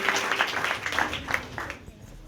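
A church congregation at a Sunday service claps briefly for a young woman, a short patter of applause that is fairly quiet and fades out after about two seconds.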